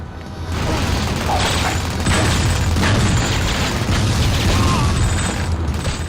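Wooden crates blowing apart in the 2000 PlayStation game 007: The World Is Not Enough, a dense, loud, unbroken stretch of crunching, rattling mechanical noise with dull booms, no voices.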